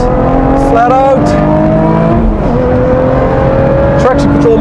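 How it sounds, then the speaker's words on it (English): A 2017 Lotus Evora GT430 engine pulls hard on a wet track, a loud close in-car drone with pitch climbing through the revs and stuttering as traction control cuts power, under someone speaking. "Traction control modulating the engine power."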